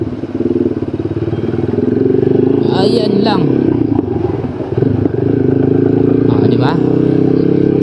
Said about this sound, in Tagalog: Pero mga motor, mabilis rin naman nakakalusot.